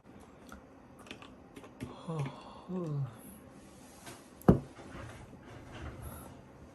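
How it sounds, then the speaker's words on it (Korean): Keyboard typing comes through as scattered light clicks beside short bursts of talking and laughter, with one sharper tap standing out. "아침부터 타이핑 치기 너무 힘들잖아"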